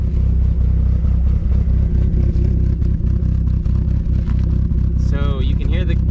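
Car engine fitted with a Helmholtz racing exhaust, running loud and steady with a deep, lumpy cam-driven burble and clattering pulses throughout, with a brief voice near the end.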